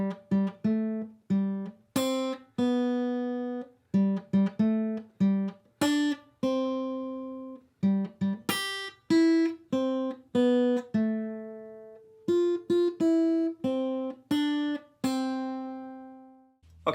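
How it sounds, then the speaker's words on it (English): Happy Birthday melody picked note by note on the top three strings of an acoustic guitar, each plucked note ringing clearly with distinct rhythmic phrasing, close and solo with no voices. "our last tab practice is Happy Birthday, and this is going to be on strings 1,"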